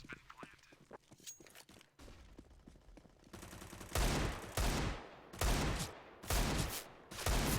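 Desert Eagle pistol fire in Counter-Strike on the Cache map during a pro match: softer clicks and shots at first, then five loud, sharp, evenly spaced shots close by.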